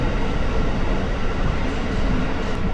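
A passenger train in Yangon moving quite fast makes a steady, loud broadband roar and rumble from the inside of a carriage, continuous throughout with no talk.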